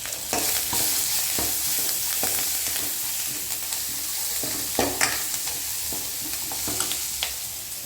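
Shallots, red chillies and lumps of asafoetida fry in hot oil for a bitter gourd tamarind curry, giving a loud, constant sizzle punctuated by repeated scrapes and clinks of the stirring spoon against the pan.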